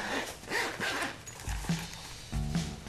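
A zipper on a case for blue-light-blocking glasses is pulled open in a few short, rasping close-up strokes, each lasting a fraction of a second, with no talking.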